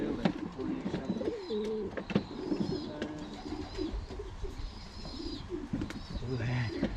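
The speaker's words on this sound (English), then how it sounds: "This wee pigeon's been keen all week." Pigeons coo softly and repeatedly in a loft of racing pigeons, a blue hen among them, with low throaty calls, faint rustling and a few brief wing flaps close by.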